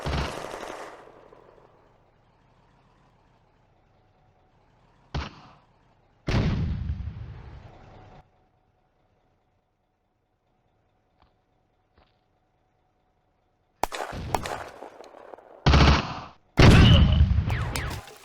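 WWII video game battle at Nesterenky village, July 1943: loud bursts of machine gun fire and single gunshots break out in clusters separated by long quiet gaps, close and sharp, with no talk.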